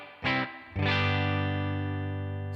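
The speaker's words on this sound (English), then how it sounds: "it's just a good all-around reverb" Electric guitar played through the reverb effect of a Headrush MX5 multi-effects unit: a short struck chord, then a second chord that rings out and fades slowly under a long, smooth reverb tail, with no talking.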